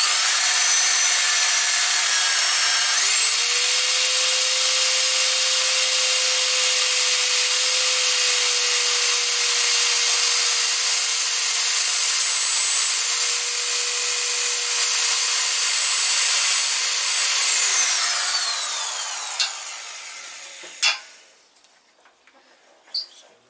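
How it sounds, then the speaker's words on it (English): A power drill bores into the wooden handle of a Marples brass-backed tenon saw. It whirs steadily and loudly for about fifteen seconds, winds down, and then two brief knocks follow. "so I can get the drill in a bit deeper."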